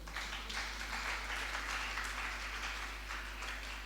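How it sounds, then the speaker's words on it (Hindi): An audience claps through a Hindi religious sermon in a hall, a steady dense patter of applause over a low electrical hum, with no speech. "आपने ताली नहीं बजाई।"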